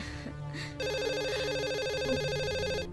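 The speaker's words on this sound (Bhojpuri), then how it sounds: "कब्बे से फोन बाजत बा" A phone rings with a bright, repeating electronic tone pattern, loud and close, over faint background noise.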